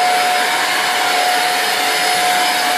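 A household vacuum cleaner runs steadily at close range, giving a loud, constant whining hum with no pauses and no voices.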